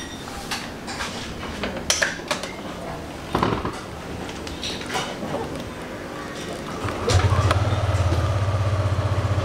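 Yamaha Aerox scooter engine being started near the end after scattered metallic clatter and handling noises, then settling into a steady, close idle.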